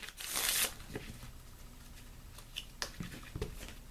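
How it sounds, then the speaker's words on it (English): A deck of Lenormand cards gets a brisk riffle shuffle in one short burst near the start. A few light taps and card handling sounds follow close up. "as I'm shuffling the cards"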